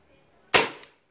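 A Tokarev SR-33 SRC gas blowback 6mm airsoft pistol fires one sharp, close, loud crack with a quick mechanical clack right after, then quiet.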